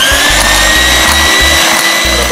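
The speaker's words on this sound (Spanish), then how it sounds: "Y seguimos batiendo." Electric mixer beating a lactose-free yogurt sponge cake batter with sunflower oil, a loud close whirring hum pulsing unevenly as the beaters move through the batter.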